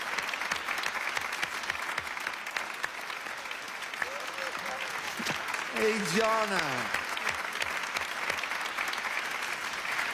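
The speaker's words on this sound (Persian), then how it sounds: "تشویقش کنیم." Audience applauding a young boy after his Quran recitation, steady dense clapping throughout with a voice speaking over it midway.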